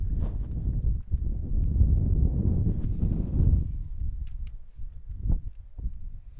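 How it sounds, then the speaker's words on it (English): Wind buffets an outdoor baseball field during a game, a loud continuous low rumble across the microphone that gusts and fades, with faint thumps and distant sounds. "Now, as windy as it can be"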